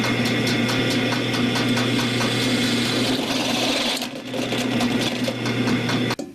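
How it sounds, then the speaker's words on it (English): A power drill bores a hole in a workpiece. Its motor gives a steady, loud droning whine, dips briefly midway and then cuts off abruptly at the end. "Once you have the initial hole drilled"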